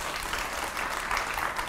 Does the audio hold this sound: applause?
yes